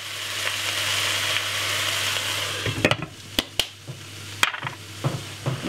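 Mixed vegetables stir-fry with oregano and dry chili in a hot pan, a loud continuous sizzle giving way to sharp clatters and scrapes as the spatula tosses them, close and alone.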